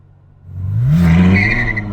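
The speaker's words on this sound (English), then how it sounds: "we're going to do a launch without launch control just to see what this thing feels like off the line" A Ferrari 812 Superfast launches hard in first gear without launch control, its engine note climbing loud and close as the tires briefly squeal with light wheel spin before the car hooks up and pulls away.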